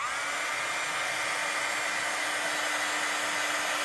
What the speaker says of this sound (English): So I'm going to just turn my heat tool on.